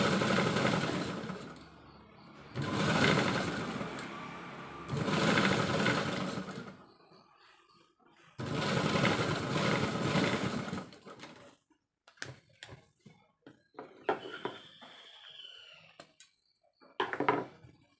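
Sewing machine stitching a shirt collar, running in bursts of a few seconds separated by pauses, close and fairly loud, with small handling clicks and rustles between runs.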